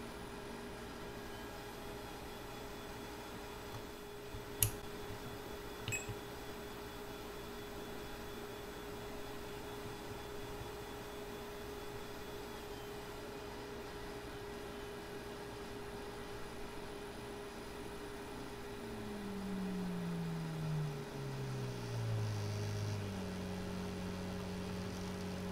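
A stepper motor run by a Dragon Driver gives off a steady electrical whine and low hum, with a couple of faint clicks early on and a stepped tone sliding downward near the end. No one speaks.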